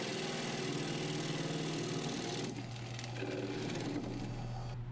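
A wood lathe spins a box elder bowl blank while the top is flattened, giving a steady motor hum with a continuous low tonal drone and a rougher cutting texture that eases partway through; no voices.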